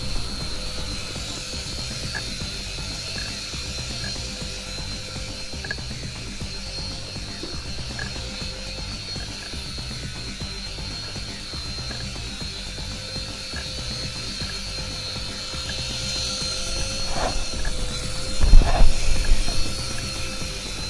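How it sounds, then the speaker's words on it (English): A single-rotor four-channel Air Hogs Helix 360 RC helicopter hovers and flies nearby with a steady, high-pitched whirring buzz. The sound swells briefly louder near the end. "that's really, really stable when it comes to a single rotor four-channel RC helicopter"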